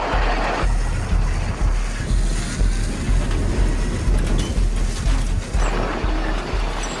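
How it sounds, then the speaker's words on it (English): A rail carriage speeds down a test track at about 40 miles an hour, giving a loud, continuous rumbling roar with rhythmic clattering and knocking as it rocks from side to side. "As it speeds down the track at about 40 miles an hour, the carriage starts rocking from side to side."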